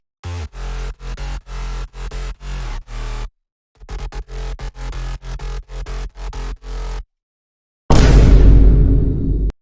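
Bass house beat built in FL Studio with Serum preset basses and a saturated sine sub: loud chopped bass stabs in a tight rhythm, a short dropout midway, then a sustained noisy bass swell near the end.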